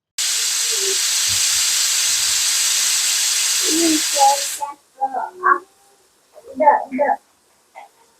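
A pressure cooker cooking chicken pulao hisses loudly and steadily as steam is released for about four and a half seconds, then stops. A person starts talking once the hiss ends.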